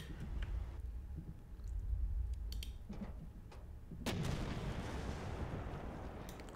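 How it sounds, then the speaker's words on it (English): Tank machine gun fire in the WWII strategy game The Troop, with muffled bursts and booming impacts, then a sustained roaring rumble of firing and explosions at moderate volume. "machine guns from the tank."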